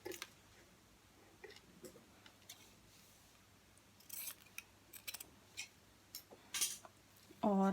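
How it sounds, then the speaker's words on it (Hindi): Scissors snip through a 19-inch fabric strip being cut for a small dhoti, a handful of quiet, separate crisp cuts spread across the stretch, close by, with a louder clatter near the end. "ये देखिए 19 इंच की मैं ये पट्टी काट रही हूँ"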